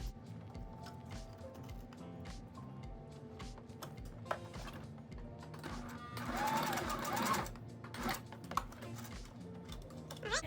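Sewing machine stitching folded webbing for a horse halter, running in short rhythmic bursts of needle ticking with a busier, louder stretch midway and small clicks between; no talking.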